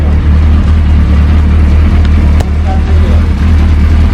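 A Suzuki Hayabusa superbike engine runs loud and close with a deep, steady idle rumble and a slight rev, heard without talk over it.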